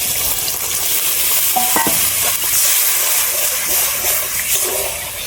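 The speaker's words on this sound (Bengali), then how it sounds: "এবার আমি পরিমাণ মতন জল দিয়ে দেবো।" Water pours into a hot pan of frying spice paste for a cabbage dish, a loud hissing sizzle with a brief splash and stirring, steady throughout.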